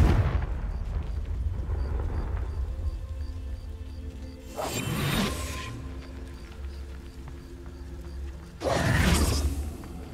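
Two blasts of the Confringo spell in Hogwarts Legacy, each a sudden whooshing explosion over a steady low rumble, spaced a few seconds apart.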